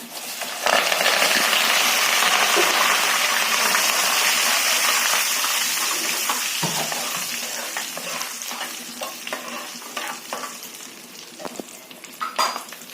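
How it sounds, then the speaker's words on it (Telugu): Asafoetida, dried red chilies and curry leaves fry loudly in hot oil as a tempering, giving a dense close sizzle that eases slightly over time while a spoon scrapes and clinks now and then. No voices. "ఇంగు వేస్తున్నాను. ఎండుమిరపకాయలు వేస్తున్నాను, కరివేపాకు,"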